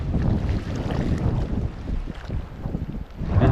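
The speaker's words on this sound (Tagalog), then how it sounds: "Ayan, palakas na ng hangin." Steady, strengthening wind rumbles and gusts over open water at a fishing spot, loud and close to the microphone, with no voices.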